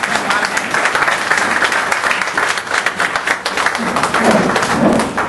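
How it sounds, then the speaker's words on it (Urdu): A crowd of guests claps loudly and steadily in welcome at the opening of a tandoori restaurant in Badalona, Spain, the dense applause sustained throughout with scattered sharper claps standing out. "اپنی محبت کا اظہار وہ یہاں تشریف لا کر بھرپور تالیوں میں"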